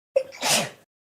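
A single sharp sneeze in a quiet city planning commission meeting room, close and clear, a quick intake followed by a loud burst that fades within a second.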